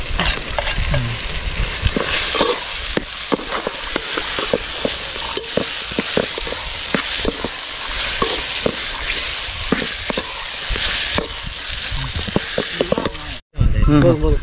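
Prawns fry in an onion-tomato and ginger-garlic paste for a prawn gravy, sizzling loudly up close while a spoon scrapes and stirs in quick repeated strokes. People talk over the cooking, and the sound cuts out for a moment near the end.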